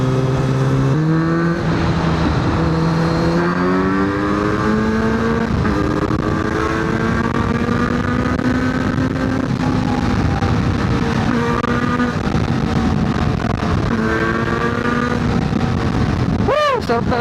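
A Kawasaki Z900RS motorcycle with an aftermarket exhaust, loud and close, its engine rising and falling through repeated gear changes as it accelerates on the road, with wind noise and a voice in places.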